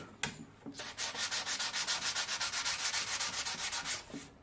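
Sandpaper works a wooden skateboard deck under light pressure with quick, even back-and-forth strokes, about twenty rhythmic rasps in a row. The sound is close and clear and there is no speech.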